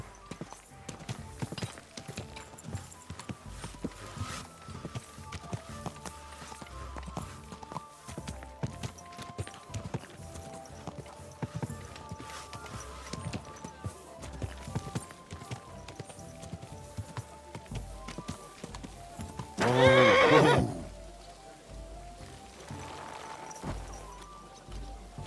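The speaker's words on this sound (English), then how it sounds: "Easy, good horse." Horse hooves clip-clop steadily in Kingdom Come: Deliverance 2, with an occasional faint neigh, over game music and ambience and a louder burst of noise near the end.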